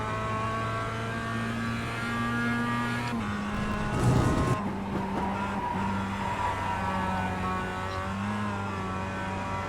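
A production race car engine howls in the iRacing sim at Lime Rock Park. The engine holds a sustained, loud harmonic note that steps as it shifts, with a brief burst of tire scrub and squeal near the middle.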